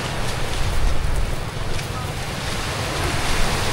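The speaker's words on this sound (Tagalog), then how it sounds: "dagat ito, West Philippine Sea na to." Sea waves and steady wind on a beach at the end of Dasol, Pangasinan, facing the West Philippine Sea: a continuous, loud broadband surf wash with gusty wind buffeting the microphone, no distinct individual wave breaks.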